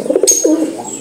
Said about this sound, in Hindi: ये कबूतर कबूतर आपस में लड़ रहे हैं।